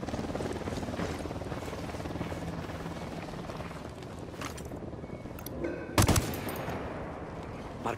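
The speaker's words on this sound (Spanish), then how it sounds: "Se acerca un helicóptero al suelo." A helicopter's steady rotor drone runs throughout amid combat noise in Ghost Recon Wildlands, with a sharp burst of gunfire-like impacts near the end.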